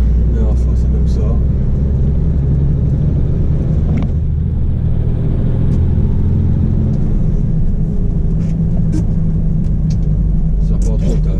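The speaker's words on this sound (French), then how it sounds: "Ça va pas trop ta voiture." A car engine rumbles steadily from inside the moving vehicle for the whole stretch, a low continuous drone with road noise, while a voice talks intermittently over it.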